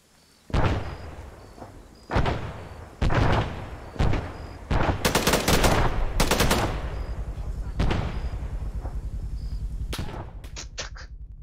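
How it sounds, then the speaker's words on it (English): A PK machine gun fires in Arma 3 in a series of loud, close bursts, some short and some longer and rattling, separated by brief pauses and trailing off at the end. "I'll just shoot from here. I've got a PK."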